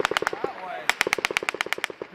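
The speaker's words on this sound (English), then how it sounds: "Somebody's shooting that way." Rapid gunfire during a firefight in Afghanistan, two bursts of sharp, evenly spaced machine-gun shots, loud and fairly close, separated by a short pause with faint voices.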